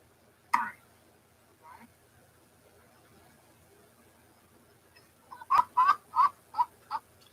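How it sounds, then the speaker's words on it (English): A small hen clucks in a short burst of quick, close clucks after a couple of isolated soft calls, with quiet surroundings in between. "I just love that little hen."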